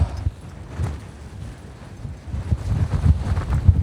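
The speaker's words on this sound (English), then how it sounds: "It's a bit windy." Gusty winter wind on the summit of Mount Akadake, Yatsugatake, buffets the microphone in low rumbling bursts, growing stronger and more continuous toward the end.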